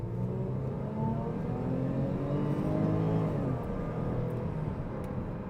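A 2019 Range Rover Sport HSE Dynamic with a supercharged V6 revs steadily and loudly up close, a sustained engine roar layered with a rising supercharger whine and no talking.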